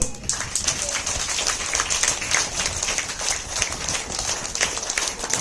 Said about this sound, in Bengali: গৌরী ম্যাম, আপনি একটু মঞ্চে আসবেন, সবাই একটু করতালি দেবে।